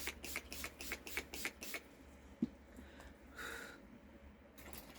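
Makeup setting spray hisses from a pump bottle in a quick burst of about seven short, rapid puffs, then one longer spritz. All of it is faint and close against a quiet room.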